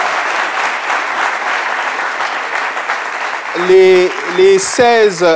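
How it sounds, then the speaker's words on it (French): A television studio audience applauds a 77% vote score, producing loud, dense clapping that runs for several seconds before a voice breaks in over the tail. "Est-ce qu'on peut applaudir pour ce score?"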